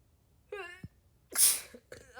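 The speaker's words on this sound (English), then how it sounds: "Oh my god, I'm gonna sneeze again." A person sneezes once after a short vocal sound, followed by a brief gasp and more voice, all close and fairly loud with no clear speech over it.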